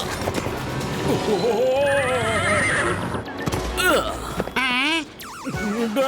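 A cartoon horse gives several loud, wavering neighs and whinnies over clip-clopping hooves, with voices talking across much of it.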